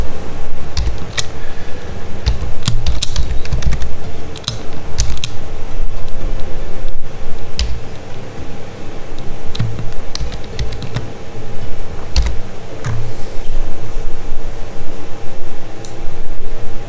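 A password is typed on a computer keyboard in bursts of close, crisp key clicks, with short pauses between runs of keystrokes and a faint steady hum underneath.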